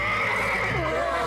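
A horse in an animated cartoon gives a loud, close, sustained neigh that fills the whole moment without other sounds.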